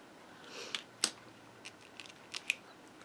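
Scissors snipping a small foam dimensional for a tropical card, a few quiet separate clicks and snips close by, faint and spaced over a hushed room.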